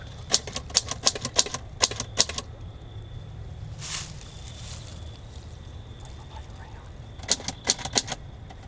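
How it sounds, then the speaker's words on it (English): Rapid bursts of typewriter keys clacking, a quick run of strikes, a quiet pause, then another short flurry of keystrokes near the end. "An old typewriter."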